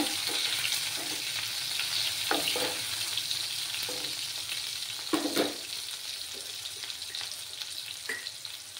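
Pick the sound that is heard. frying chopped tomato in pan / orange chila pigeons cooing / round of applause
frying chopped tomato in pan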